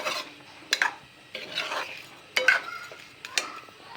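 A spoon stirs a mango pickle mixture in a pan, making intermittent scraping and clinking strokes against the metal, about four distinct clanks with softer rasping between, close and alone.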